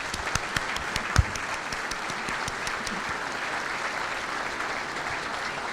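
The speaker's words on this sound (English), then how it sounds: "Let's have a great round of applause" An audience at a monthly society program gives a warm round of applause for newly introduced members, steady even clapping that fills the room at a moderate level with one sharp thump near the start.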